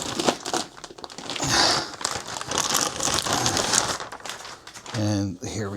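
Packaging around a PS Audio phono preamplifier being unwrapped, with loud close crinkling and crumpling of plastic and paper in bursts, and someone speaking briefly near the end.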